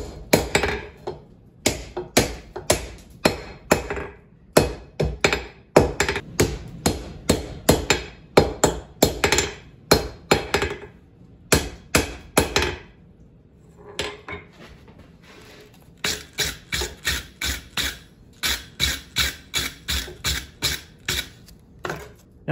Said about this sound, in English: first item of business is to straighten the coil spring out.